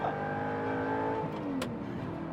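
An Audi R8 Type 42 with a six-speed gated manual revs hard while driven, its engine note sweeping up in pitch then easing off, steady and fairly close.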